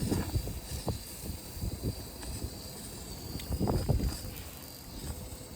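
Wind gusting against the microphone in low, irregular buffeting thumps and rumbles, with a faint steady hiss underneath.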